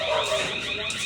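A CCTV security alarm set off by a person passing by sounds as a steady, piercing electronic tone held without a break, loud and close.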